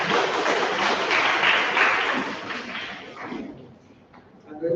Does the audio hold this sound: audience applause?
yes